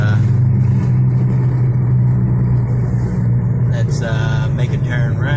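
Infiniti G35 or G37 on a road test drive, a steady low engine hum and tire rumble from inside the cabin, constant and fairly loud throughout.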